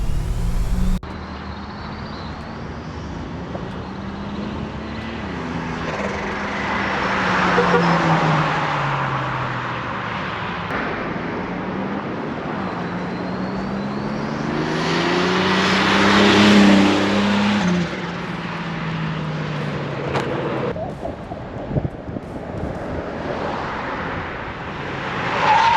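A Buick Grand National drives on a road test, its engine droning and rising and falling through gear changes as it accelerates, steady and moderately loud from inside with no talk.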